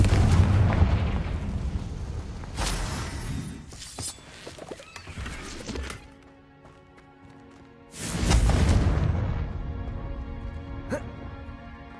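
Confringo spell explosions in Hogwarts Legacy, two heavy booming bursts separated by a quieter lull with lingering ringing tones, loud and close within the game's soundscape.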